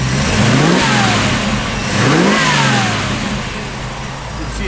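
A 1957 Chevrolet Bel Air engine revs loudly close by, climbing through two strong rising pulls before settling back, with a steady rumbling drone throughout and no talk.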